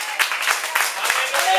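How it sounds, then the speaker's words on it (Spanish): Congregation clapping during a church sermon, a short burst of crowd applause mixed with voices and shouts. "Dale un aplauso al Señor."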